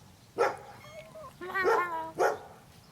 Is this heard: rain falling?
no